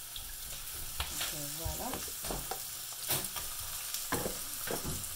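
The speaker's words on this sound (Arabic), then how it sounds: "المهم بعد ما تشحرات البصله شويه غادي نديرو الدجاج حتى هو باش نشحرو" Chicken fries with onions in a pan for rfissa, a steady sizzle broken by scraping stirs, while a person speaks over it.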